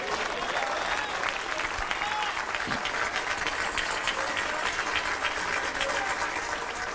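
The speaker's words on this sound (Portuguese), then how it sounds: "Aplauda mesmo a ele." Sustained applause from a church congregation during a service, dense steady clapping from a crowd lasting the whole stretch, with no speech over it.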